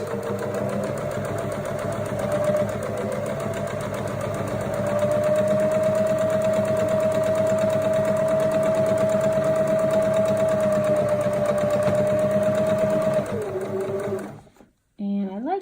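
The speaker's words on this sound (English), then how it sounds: "Your feed dogs can only do so much work on a standard sewing machine." A sewing machine stitches through a car trash bag continuously at a steady, rapid whirring pace, close by, then stops abruptly near the end. A voice may be faintly audible beneath.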